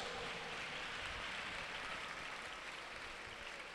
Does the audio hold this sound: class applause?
yes